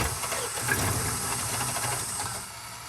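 A Chevrolet Bison truck engine turning over in freezing cold, with a rough, rhythmic churning and cranking that stays loud and close before easing slightly at the end.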